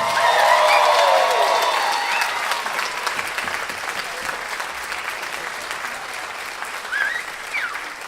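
A large audience applauds loudly to welcome a musician taking the stage, the dense clapping strongest at the start and easing slightly while continuing steadily throughout, with a few cheers and whistles mixed in.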